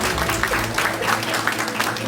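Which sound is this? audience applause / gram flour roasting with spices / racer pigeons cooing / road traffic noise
audience applause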